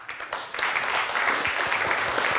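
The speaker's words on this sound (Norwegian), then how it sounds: "En applaus." Applause for a speaker after an energy-situation talk in Europe starts with a few scattered claps and quickly swells into a steady, moderately loud wash of clapping from the audience.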